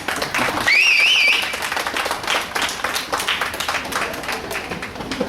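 Crowd clapping and cheering at an apartment New Year function, loud dense applause running throughout with a brief whistle-like tone early on and voices mixed into the din.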